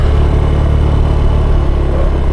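Motorcycle engine roaring loud and close on a steep hill road from Siti Nurbaya Bridge toward Marawa Beach, a steady droning rumble with no talk.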